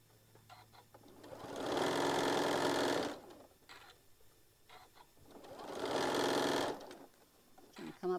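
A sewing machine stitching a seam on a tote bag, two steady whirring runs of about two seconds each with short pauses between them, close and fairly quiet, with faint handling noise.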